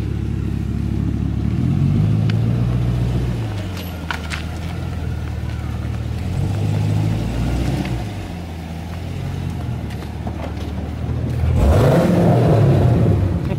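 A Chevrolet Camaro engine revs and idles nearby, with a deep, steady rumble that swells in several blips and climbs to a louder rev near the end, running on its stock exhaust tips.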